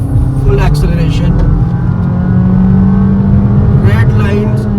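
A 2023 Honda Elevate ZX with a CVT, a compact SUV, under full acceleration from inside the cabin: a steady, loud engine drone that climbs in pitch while someone talks over it.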